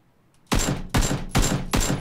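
Four loud, close shotgun blasts from PUBG (Battlegrounds) go off in a steady rhythm, each a sharp crack with a short decaying tail.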